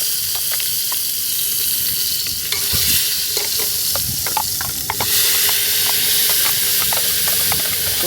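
Spice tempering for chhole sizzles loudly and steadily in a hot pan, a dense close hiss with scattered pops and crackles running the whole time, no speech over it.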